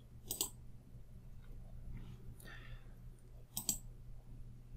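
A computer mouse clicks on a Next button in an online exam, two sharp close clicks spaced a few seconds apart with a faint softer click between them in a quiet room.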